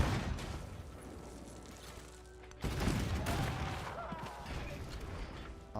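Attack on a howitzer in Civilization VII: a muffled volley of gunfire and explosive bursts, with a sharp louder blast about halfway through and a rumbling tail, moderately loud and without speech.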